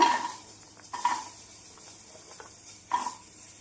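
Peeled almonds being dry roasted in a pan with no oil, stirred in a few distinct scraping and rattling sweeps over a soft steady hiss, close by and without speech.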